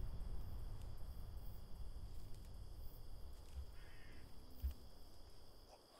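Crows caw within a video game's ambient soundscape, repeated calls over a steady low rumble and hiss, moderately loud and continuous with no talk.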